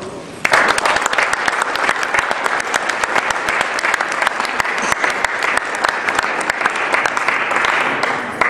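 A lecture audience applauds in welcome of artist Edgar Jerins at a gallery opening in Omaha. Dense, steady clapping fills the room for about eight seconds and stays loud throughout.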